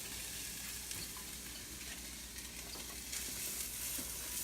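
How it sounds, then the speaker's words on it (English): Garlic and onion sautéing in olive oil in a skillet give a steady, close crackling sizzle with light stirring, continuous and unbroken with no talk. "So let's come over here and we're going to saute this."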